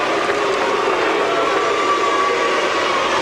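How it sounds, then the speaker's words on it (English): A heavyweight boxing arena crowd for Chris Byrd versus Eliecer Castillo gives off a steady, loud, washing roar of reaction that holds at an even level without breaks. "Crowd offers their opinion of that version of heavyweight boxing"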